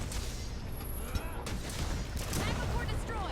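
Explosions and crackling blasts in Monster Hunter: World during a fight with Arch-Tempered Zorah Magdoros, dense and loud throughout with rumbling impacts and game effects.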